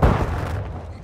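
A flashbang grenade goes off in Modern Warfare 2, one loud close boom that fades into a short rumbling tail.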